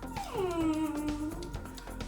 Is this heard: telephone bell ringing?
no